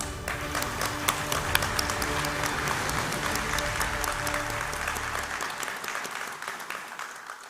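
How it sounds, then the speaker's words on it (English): An audience at a conference event breaks into sustained applause, a dense wash of many hands clapping at an even level that fades toward the end. "let's give him a very big applause"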